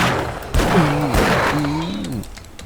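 Revolver shots fired at zombies in the survival game 7 Days to Die: a few sharp, loud cracks in quick succession over a dense game backdrop, with a voice talking through it.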